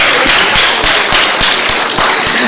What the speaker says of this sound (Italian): Cristiana, un applauso.